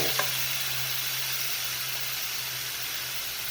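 Pieces of pork liver hit a hot pan and sizzle loudly while frying, a dense, steady hiss with a faint clack at the start as they go in.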